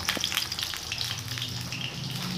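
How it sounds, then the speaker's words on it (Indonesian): Jengkol beans fry in hot oil with a loud, steady sizzle and crackle, broken by a few sharp pops and scraping stirs, close by and with no voices. "Goreng jengkol, Dek."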